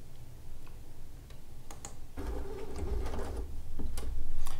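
Baby Lock sewing machine stitching on a fabric scrap, with quiet ticking mechanical clicks followed by a louder, steady whirring run of the needle close by.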